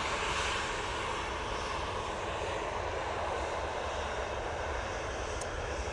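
An EasyJet airliner taking off at Manchester Airport, its engines roaring in a steady, broad, loud rumble that holds without a break throughout, with no voices heard.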